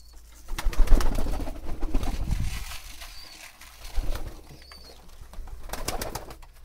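Pigeons in a loft at midday coo in low, throaty bursts, several overlapping calls rising and fading close by, with occasional faint rustles and wing movements between them.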